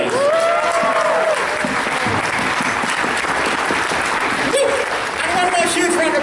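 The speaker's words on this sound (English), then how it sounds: "one more huge round of applause for Chaotic Pony and for our entire amazing charity auction staff" Loud sustained crowd applause at a convention charity auction, continuous clapping filling the room while a voice and some cheers rise over it.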